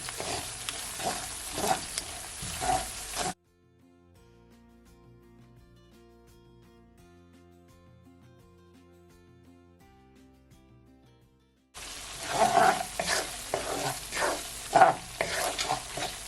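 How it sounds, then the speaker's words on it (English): Butter and flour sizzling in a pan for gravy, with rhythmic spoon scrapes and steady frying hiss in two loud bursts separated by a long quiet stretch of soft background hum. "But you just want to continue to stir it."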